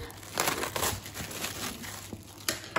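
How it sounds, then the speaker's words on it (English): A knife slices open a plastic bag on a kitchen bench and the plastic crinkles and tears in short, close rustling bursts, fairly quiet, with no talking. "I'm going to use a knife to cut the bag open."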